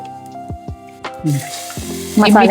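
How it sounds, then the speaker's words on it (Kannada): Mustard seeds and cumin splutter in hot oil for a traditional Maharashtrian shengole, a short burst of close crackling that rises near the end after a stretch of talk. "ಸಾಸಿವೆ ಹಾಕ್ತಿದ್ದಂಗೆನೆ ಜೀರಿಗೆ. ವಾವ್, ಚಡಪಡ ಚಡಪಡ ಅನ್ಲಿ."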